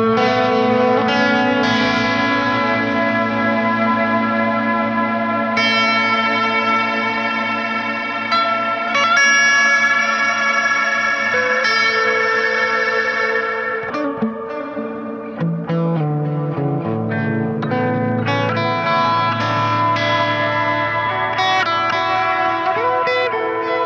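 Amplitube X-Space reverb pedal on electric guitar using its freeze effect: a sustained, held wash of chords rings on continuously while new guitar notes are played on top, loud and steady with no talking.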